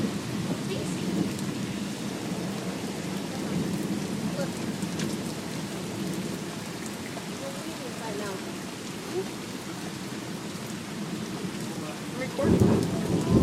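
Thunderstorm in Fargo, North Dakota, in June: steady heavy rain hisses throughout with a low rumble of thunder, and a louder crack-like burst near the end.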